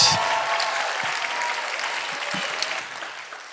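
An audience at a keynote talk gives a round of applause, with a steady wash of many hands clapping that slowly fades toward the end.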